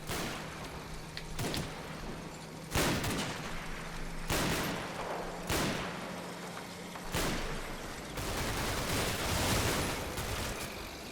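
A rapid-fire weapon opening up in Combat Mission: Battle for Normandy: loud, spaced cracks and bursts of gunfire recurring every second or two over a rumbling battlefield backdrop, with no talk.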